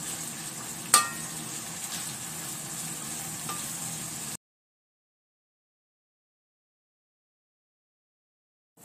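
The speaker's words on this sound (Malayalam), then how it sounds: "നമ്മുടെ ബ്രാല് അടിപൊളിയായിട്ട് മുരിഞ്ഞിട്ടുണ്ട്" Pieces of snakehead fish fry in a pan of oil for pickle, giving a steady hiss with a sharp clink near the start, before the sound cuts off to silence partway through.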